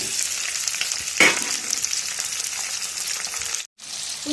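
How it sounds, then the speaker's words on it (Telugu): Onion and tomato pieces fry in a pan with a steady, dense sizzle that runs throughout, broken by one sharp stir accent early and a brief dropout near the end. "ఉల్లిపాయలు టమాటా ముక్కలు కొంచెం మంచిగా మగ్గించుకున్నాను"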